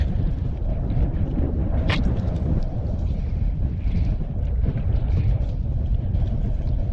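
Wind blows steadily and loudly across the microphone beside a small creek during fishing, a constant roaring buffet with no talk.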